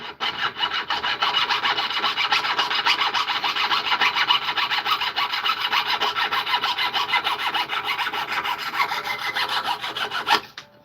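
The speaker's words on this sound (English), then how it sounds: "I borrowed your diamond cutoff wheel, because that's gonna make this a hell of a lot quicker" Diamond cutoff wheel cutting steadily through material at a silversmithing bench, a continuous loud gritty grinding that holds for about ten seconds and then stops abruptly.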